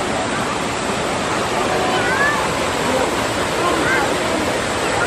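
Hieu waterfall in the low-water season, a steady broadband rush of falling water, continuous and fairly close with no break.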